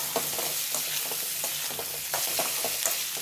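Boiled, cut raw banana and onion are stir-fried in a pan, a constant loud sizzle with repeated light scrapes and taps of the spatula as the pieces are tossed without pause.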